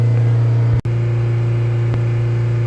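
A diesel engine runs steadily through a forced DPF regeneration with exhaust at about 610 degrees, giving a constant, loud drone with a very brief dip partway through.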